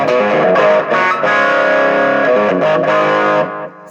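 Electric guitar through a COOLMUSIC 50-watt amp with a Clarksdale overdrive pedal, playing sustained, moderately distorted chords and notes at steady loudness that fade out at the end.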